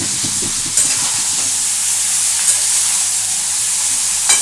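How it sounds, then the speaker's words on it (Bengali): Eggplant pieces dropped into hot oil in a pan over a raised gas flame for masala begun bhaji, giving a loud, continuous sizzling hiss with a few stirring clatters early on. "গ্যাসটাকে একটু বাড়িয়ে দিয়ে এই বেগুনগুলো আমি দিয়ে দেবো"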